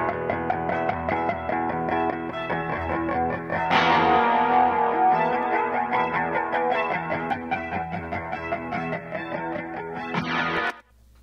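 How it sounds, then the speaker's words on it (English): Electric guitar through a phaser with a swirling, sweeping modulation effect, playing sustained distorted chords for several seconds, then cutting off near the end. "you can hear the phaser kind of happen a bunch"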